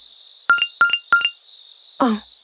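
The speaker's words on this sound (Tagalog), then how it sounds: "May nag-text." A mobile phone plays a text message notification tone: three quick pairs of bright chiming beeps over a steady electronic hum, then a short rustle, with no talking.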